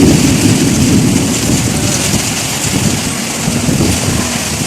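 Night rain falls steadily in Bahrain with low rolling thunder, a dense even hiss of rainfall beneath a deep rumble that fades over a few seconds, no talk.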